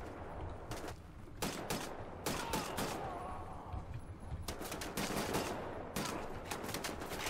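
Gunfire in Wolfenstein: The New Order, several loud bursts of automatic shots separated by brief lulls filled with lower rumble and clatter, close and punchy over a steady game background.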